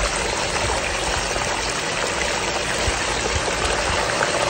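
Water rushes steadily through a gold highbanker sluice fitted with a scrubber and river hog mats, a constant close broadband flow with no pauses and no talk.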